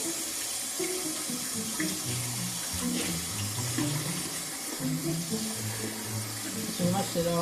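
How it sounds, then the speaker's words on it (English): Tap water runs steadily into a sink as hands are washed during cheeseburger prep, a continuous close splashing stream with a voice talking over it. "Washing the hands. Making sure they're nice and clean."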